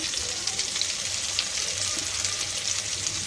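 Food frying in a wok in a home kitchen, making a constant dense sizzle close by, with no voices.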